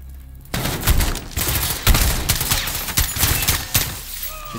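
Rapid bursts of automatic gunfire from the video game Call of Duty Modern Warfare, loud and dense, firing in repeated volleys after a brief quiet start, with no talking.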